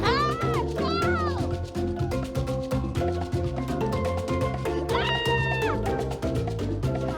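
A cat meows several times in rising, drawn-out calls, loud and near, mixed over steady background music.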